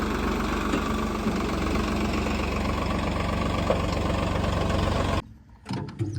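A tractor engine idles with a steady low, throbbing rumble, then cuts out abruptly near the end, leaving a few faint knocks.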